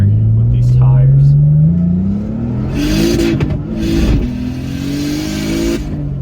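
A turbocharged BMW E46 with an S52 engine accelerates hard from close by, its engine note rising steadily in a loud rev that shifts pitch mid-pull, with tire and exhaust noise.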